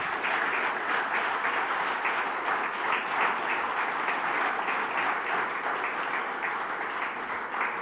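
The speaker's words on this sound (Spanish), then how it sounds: "¿Por qué no le das un aplauso al Señor?" Sustained applause from a church congregation during a Spanish-language service, a steady dense wash of many hands clapping at even loudness for the whole stretch, with no voices rising above it.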